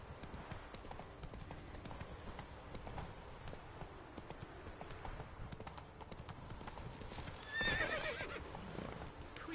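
Roach, the horse in The Witcher 3, clip-clopping along at a steady pace with a brief whinny near the end, quiet and low in level with no speech.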